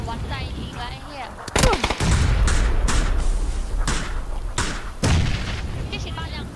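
Gunfire in a Thai player's video game shootout, several sharp, loud shots cracking out at irregular intervals with heavy low-end thumps, amid excited voices talking over the action.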